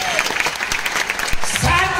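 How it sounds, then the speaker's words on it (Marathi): Audience applause at a lavani festival marking the 55th anniversary of Balgandharva, a dense wash of clapping that runs for two seconds while a voice talks over it. "याच्यासाठी जोरदार टाळ्या"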